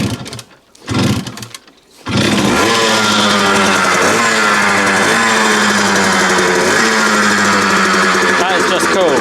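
A rebuilt Kawasaki KH125 motorcycle engine, kicked over with a couple of short attempts and then catching to run loudly and steadily up close, its note swelling with repeated throttle blips.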